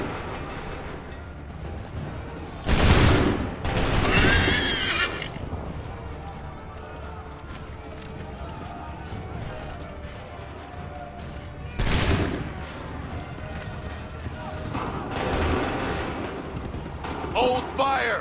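Musket volleys fired by soldiers in Assassin's Creed 3, several loud, sharp bursts of massed gunfire spaced apart over a battlefield din, with shouted commands between them.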